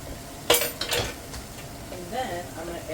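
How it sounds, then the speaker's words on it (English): A spoon scrapes and clinks against a cooking pan as garlic goes in for homemade hash, two sharp metallic knocks followed by a soft sizzle and light stirring. "Alright, I'm gonna add in my garlic."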